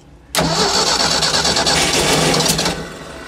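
Engine of a 1990s tracked auger machine, parked for over ten years, catches suddenly and settles into a loud, steady rough run close by, then eases slightly toward the end.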